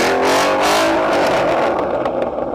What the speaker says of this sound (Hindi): इसकी 5000 सीसी V8 इंजन की आवाज सुन के मैं पिघल गया